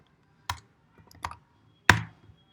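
A few separate keystrokes on a computer keyboard while typing code, about three or four crisp taps at an uneven pace, close and quiet with no talking.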